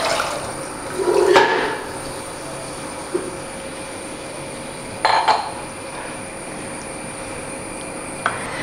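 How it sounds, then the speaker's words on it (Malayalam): Boiled white chickpeas and water are poured into a hot pan of sautéed masala, producing a loud splashing gush, followed by a second burst of pouring and a brief clink amid a low background hum. "ഇനി നമുക്ക് ഇതിനകത്തോട്ട് വേവിച്ച് വെച്ച കടലയും വെള്ളം കൂടെ ചേർത്ത് കൊടുക്കാം"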